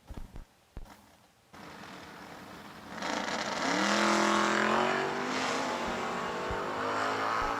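A Camaro drag race car launching off the line at a raceway, a few sharp clanks, then an engine roaring up loudly and holding a high rising whine, nearby and alone.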